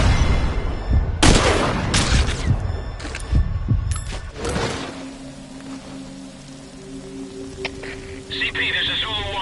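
Gunfire in the stealth video game Metal Gear Solid V: Ground Zeroes, a burst of loud, sharp shots in the opening seconds that gives way to quieter game ambience with faint tonal effects.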